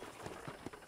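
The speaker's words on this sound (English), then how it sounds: "Okay, let's see if you can still ride a horse." Horse hooves clip-clopping while riding in the video game Red Dead Redemption, a short series of soft, moderately close hoof thuds over a background hum.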